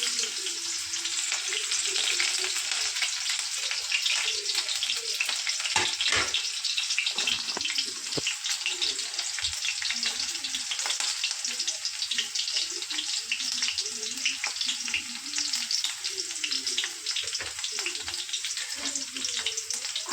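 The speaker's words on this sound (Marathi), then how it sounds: "आपण मिरची टाकून घेऊ." Green chilies sizzle and crackle in hot oil in a pan for egg fried rice, a steady close frying hiss with faint stirring and a voice speaking over it.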